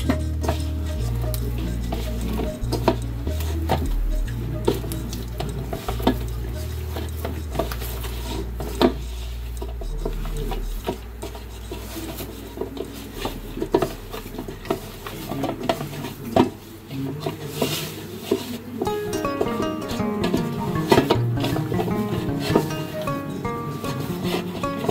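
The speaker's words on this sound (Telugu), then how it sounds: "దీన్నైతే మనం చపాతీ పిండిలా కలుపుకోవాలండి." Wheat flour dough for chapati-style biscuits is mixed by hand in a bowl, giving soft rubbing, patting and stirring sounds with occasional light clinks of the vessel, steady and close.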